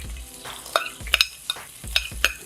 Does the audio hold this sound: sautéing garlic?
yes